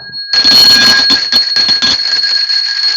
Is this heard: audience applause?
no